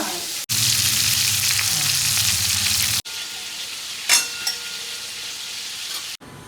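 Prawns fry in hot oil with a loud, steady sizzle that cuts off and resumes, accompanied by a brief scrape of a utensil.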